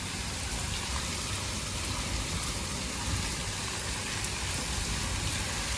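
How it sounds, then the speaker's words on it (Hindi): Heavy rain pours down in a village, a dense, steady hiss of drops beating on surfaces that holds evenly loud for several seconds. "इतनी तेज़ बारिश हो रही है पिछले पौने घंटे से।"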